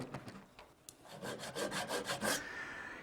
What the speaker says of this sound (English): Now I'll just finish it up with some hand tools.